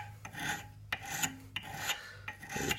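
A needle file rasps across brass to take off a burr. The close, gritty strokes come in quick repeated passes with short gaps between them and no voices.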